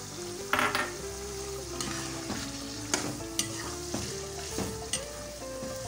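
A cup of yogurt goes into beef stew frying in a pot, giving a close, steady sizzle with scraping stirs and occasional clinks of a spoon against the pot, and no talking.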